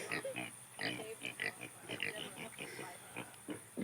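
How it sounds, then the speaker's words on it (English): Pigs on a farm grunt and oink close by in a rapid, continuous series of short snorting calls, with a faint voice in the background. "Pigs are crazy."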